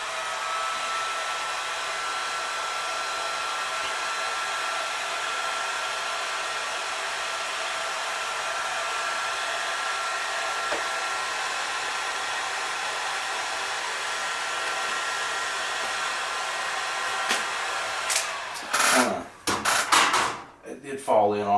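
A heat gun blows steadily on vinyl wrap being applied to a motorcycle helmet, a constant loud whooshing hiss that holds for most of the time before giving way to handling knocks and rustling near the end.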